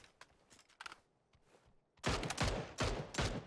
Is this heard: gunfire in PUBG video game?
yes